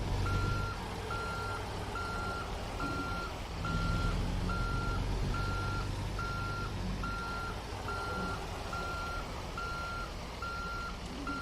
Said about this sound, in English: It's actually the first time I backed up one of these trailers.